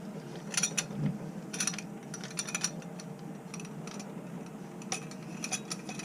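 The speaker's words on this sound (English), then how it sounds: "This piece screws on to this piece here." Plastic 1.5-inch extension tube being screwed onto a sink drain: repeated close ratcheting clicks and gritty thread scrapes in short bursts, with no talking.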